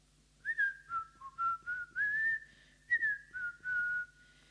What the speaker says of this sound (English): I start whistling reverse, like inhale whistling instead